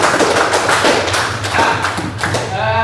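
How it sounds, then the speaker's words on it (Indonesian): Schoolchildren in an Indonesian classroom clap their hands together, a dense patter of claps close by that carries steadily through about three seconds with a little chatter mixed in. "Tepuk tangan untuk kita semua."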